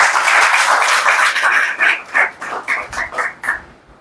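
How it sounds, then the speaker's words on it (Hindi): A crowd cheering students' twelfth-grade board exam results claps loudly: a dense burst that soon falls into a rhythmic, roughly unison beat of strong claps before trailing off. "बार जोरदार तालियां।"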